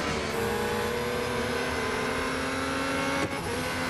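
Formula 1 car engine in Real Racing 3 at the Italian Grand Prix, a loud steady high-pitched whine held throughout during an overtake, with a brief dip near the end.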